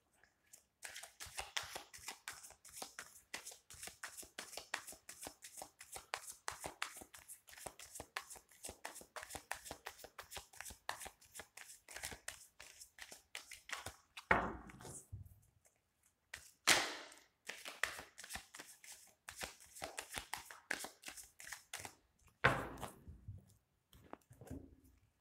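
Tarot cards shuffled continuously for about fourteen seconds as a dense stream of soft papery flicks, followed by a few louder separate slaps and rustles, close up and without speech.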